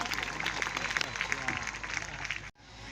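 An audience claps steadily, dense and fairly close, to welcome a speaker onto the stage at a girls' school event, then cuts off abruptly near the end.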